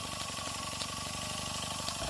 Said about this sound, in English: Oh, that steam coming out.